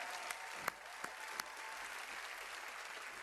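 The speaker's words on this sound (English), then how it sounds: "Could I please have another round of applause" A crowd at the Bethesda E3 2016 conference applauds at a low level, a steady wash of clapping with a few sharper single claps standing out.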